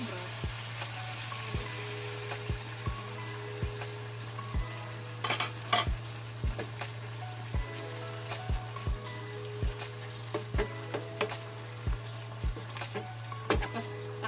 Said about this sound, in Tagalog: Lagay tayo ng chicken broth guys